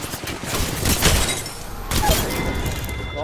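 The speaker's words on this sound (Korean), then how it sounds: "저 앞에 우리 살려야 되는 쪽에 저 되게 많은 총소리가 들리는데" Heavy gunfire in a video game crackles in dense, overlapping bursts, continuous and fairly loud at middle distance.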